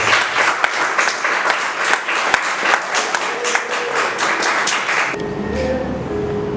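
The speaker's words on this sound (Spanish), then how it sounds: "Denle un aplauso." A church congregation bursts into loud, dense applause that lasts about five seconds and then stops abruptly, leaving a quiet tone and faint voices.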